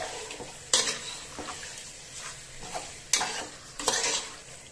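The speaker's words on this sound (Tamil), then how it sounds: "இந்த மசாலாவோட இந்த சிக்கனை நல்லா பரட்டிக்கலாம்." Chicken being stirred and fried in a green masala for hariyali chicken, with a spoon scraping and clanking against the pan in several sharp bursts over a steady low sizzle.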